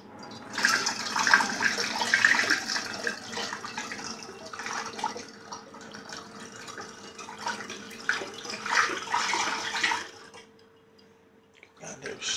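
Cooled strawberry mixture is poured into apple juice for homemade strawberry cider, giving a continuous splashing, gurgling pour of liquid for about ten seconds before it trails off, with faint talk.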